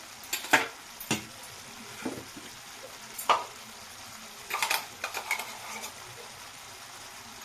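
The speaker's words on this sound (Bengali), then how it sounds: "ঢাকাটা খুলে আবার নাড়িয়ে চাড়িয়ে নেব এবার এতে দিয়ে দেব সর্ষে আর পেঁয়াজের বাটা" A spoon stirs a fish curry with potatoes and greens as mustard and onion paste goes in, with sharp metallic scrapes and clinks against the pot over a soft sizzle and no voices.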